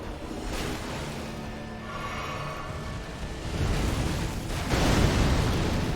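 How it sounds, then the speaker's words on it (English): A boss attack explosion in Elden Ring: a rumbling, roaring blast that builds over a noisy game backdrop and swells louder near the end. "And that explosion, always fun."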